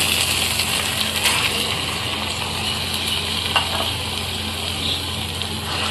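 Chicken pieces sizzle as they go into fried tomato masala in a pan for a Chicken Maharani curry, a steady close crackle with a few scraping and stirring clicks and no talk.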